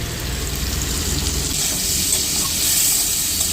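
Tomato tossed into a pan of fried onions, giving a continuous close sizzle and steamy hiss that holds steady without pause or talk.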